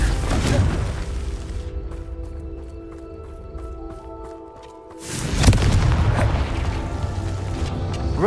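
Booming blasts of the Confringo fire spell in the game Hogwarts Legacy, a loud rumbling burst at the start and another after a quieter stretch with faint tones, each explosion heavy and low.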